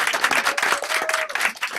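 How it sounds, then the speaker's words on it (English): Enthusiastic clapping from an audience at a centennial celebration honoring Harlem journalist Mel Tapley, dense and continuous with a few cheers mixed in, close and lively. "Give her a round of applause for that"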